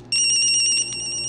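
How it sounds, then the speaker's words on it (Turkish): A Senao SN-356 cordless telephone plays its ringtone, a bright electronic warble that starts abruptly and holds steady and close for about a second. "Çalma sesini ayarlayabiliyoruz"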